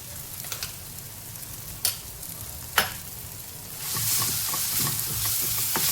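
Ground masala with red chilli powder frying in hot oil in a pan for a Konkani singhada bhaji, a steady sizzle with scattered stirring scrapes and clinks that swells louder and busier in the final seconds.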